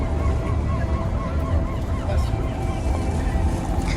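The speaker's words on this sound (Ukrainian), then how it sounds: "І чайки." Gulls calling and honking over a busy harbour in a historic Baltic town, with steady water and boat noise underneath and a continuous loud wash of ambient sound.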